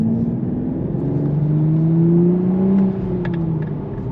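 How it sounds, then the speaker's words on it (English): A manual Toyota MKV Supra pulling hard in third gear, its engine note climbing steadily with a rising turbo whine over the drone, loud and close, easing off toward the end. "you can definitely hear turbo noises"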